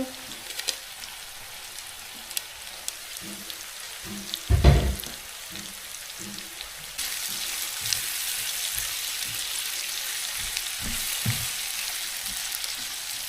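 Onions and pickles sizzle steadily in a hot pan, a close, crackling fry that briefly clatters with a stir and then settles into a louder, even hiss.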